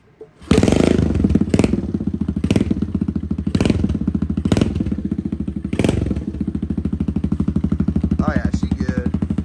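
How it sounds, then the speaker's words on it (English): A Kawasaki KLX110 pit bike, cold engine kick-started, catches and settles into a loud, close, rapid single-cylinder idle with several throttle blips, no talk. "let's fire this thing up and see if we got our throttle position right"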